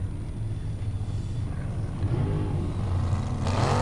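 Formula Offroad car in the Greifa event climbing a dirt hill, its engine a loud, close rumbling drone that builds and swells toward the end.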